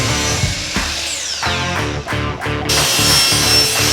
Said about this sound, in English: over at the miter saw, I cut them down to 3 feet long